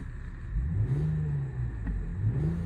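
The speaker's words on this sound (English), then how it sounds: "you've got a nice sound with that V6 engine." A 2002 Lexus GS300's V6 engine revs up and down twice, a deep throaty drone rising in pitch, heard from inside the cabin.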